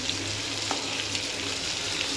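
Spices tempering (vaghar) in hot oil for jeera aloo, a close, continuous hissing sizzle with faint crackles, no talk.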